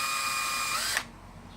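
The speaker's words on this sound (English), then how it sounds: "I'm going to send a drill in here just a little bit just to start these holes." A power drill briefly bites into a wooden speaker case to start countersink holes: a short, high whining spin lasting about a second, then stopping abruptly, close and clear.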